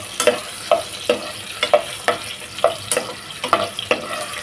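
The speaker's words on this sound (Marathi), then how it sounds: "आता त्याच्यामध्ये बटाटे घालते, म्हणजे जरा बटाटे फ्राय होतील." Potatoes frying with green chillies in a pan for Maharashtrian prawn pulao, a close, steady sizzle punctuated by regular spatula scrapes about twice a second.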